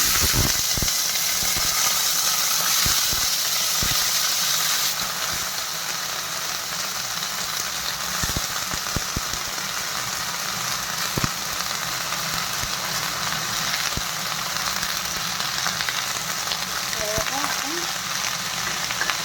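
Bitter gourd sizzles loudly in a hot wok with onions, a dense continuous crackle broken by sharp utensil knocks and stirring clatter, with a brief voice near the end.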